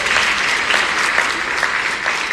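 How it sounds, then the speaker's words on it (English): An audience at a new student orientation event gives a steady round of applause that fills the whole stretch at an even, dense level, with no voices standing out. "Can I get a round of applause for that?"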